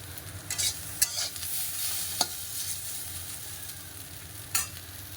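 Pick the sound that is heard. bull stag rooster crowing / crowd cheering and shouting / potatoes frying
potatoes frying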